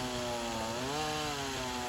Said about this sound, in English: I'm using a 16-inch steel gas-powered chainsaw, which goes through this material very quickly